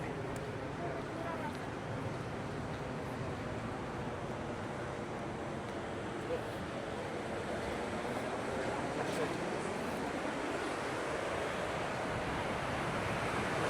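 Atlantic Ocean surf rolls against the coast by the Hercules caves where West Africa meets the sea, a continuous low roar of waves mixed with wind buffeting the microphone, with people talking faintly over it.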